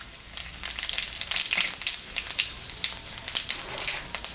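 Whole cumin seeds, dry red chilies and cloves crackle and sizzle steadily in hot oil left from frying fish heads, a close, bright frying hiss with dense spattering pops.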